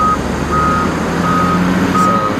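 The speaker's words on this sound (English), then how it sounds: "so it's a pretty big truck" A large coal truck's reversing alarm beeps in regular, evenly spaced tones over a loud, rumbling engine.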